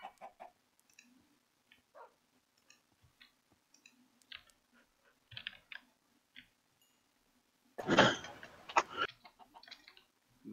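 Chickens in Minecraft cluck in short, scattered bursts against a quiet background, building to a louder, denser flurry of clucks near the end, with no talking.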